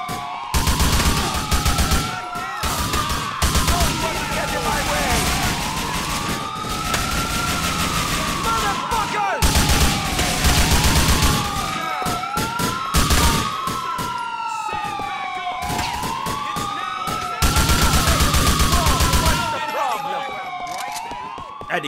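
During a GTA 4 bank robbery, heavy bursts of gunfire rattle repeatedly under wailing police sirens, with talk mixed in.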